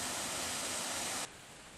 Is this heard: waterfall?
yes